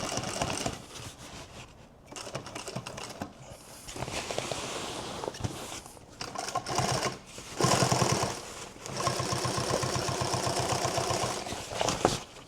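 A sewing machine stitches through a duffle bag in several bursts of rapid, even mechanical chatter. The machine is close and loud, with short pauses and handling noises in between.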